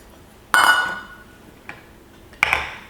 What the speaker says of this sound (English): And then some ice cubes. Don't need a lot of ice cubes.